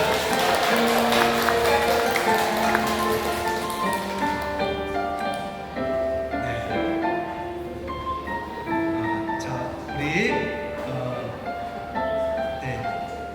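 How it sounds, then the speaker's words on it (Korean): A church congregation claps together over sustained instrumental music, and the applause fades out after about four seconds while the music continues. "우리 박수로 환영하겠습니다"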